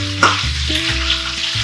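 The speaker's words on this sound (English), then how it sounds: "I'm going to add the onions straight in the pot" Chopped onions fry in a pressure cooker pot, giving a steady close sizzle with a bright burst at the start as they hit the hot oil, alongside a low hum and a few stirring clatters.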